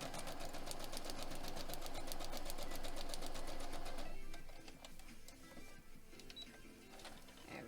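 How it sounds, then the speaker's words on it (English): Sewing machine stitching a foundation paper pieced syringe quilt block, a rapid steady mechanical whirr running for about four seconds, then stopping into quieter handling noises, fairly faint and without talk. "So let's go ahead and sew the rest of these."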